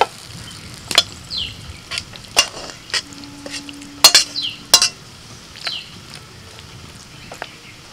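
Cooked Malabar spinach (pui shak) being stirred in a pan, with sparse, sharp scrapes and clinks of a utensil at irregular intervals over a quiet background.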